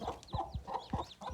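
Farm chickens kept alongside ducks cluck in a run of short, close calls repeating at a steady pace, with a few higher squawks mixed in.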